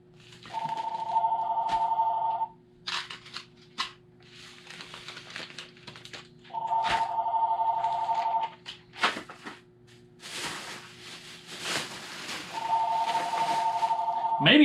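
A telephone rings indoors in three long electronic bursts spaced several seconds apart, with rustling, handling noises and someone talking in between.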